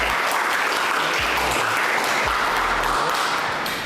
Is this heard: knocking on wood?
no